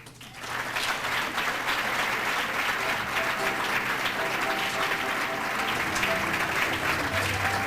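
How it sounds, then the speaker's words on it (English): A hall audience applauds an award winner at a 1998 grand awards ceremony, dense sustained clapping that swells in within the first half second and holds loud and even to the end, with faint voices mixed in. "let's have a round of applause for Susan Lowry."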